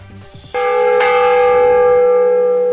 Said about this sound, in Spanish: Con este sonido armónico de campanas inicia el llamado para asistir a la misa